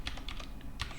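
Fast typing on a computer keyboard, about eight or nine crisp close key clicks in quick irregular succession, alone with no talking.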